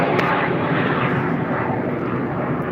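A jet airplane passes overhead near an airfield, a loud, steady broadband engine roar filling the whole stretch without pause, no voices.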